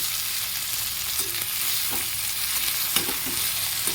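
Vegetables are stirred in a hot kadai, a steady sizzle with scraping strokes of the spoon every second or so, no voices.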